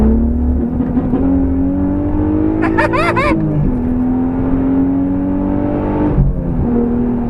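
A naturally aspirated Nissan engine idles with a steady drone, then briefly revs on a rolling anti-lag launch limiter with sharp rising pops before settling back to a low rumble.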